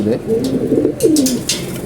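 Pigeons cooing up close in a short, continuous stretch of low, rolling calls over faint background noise.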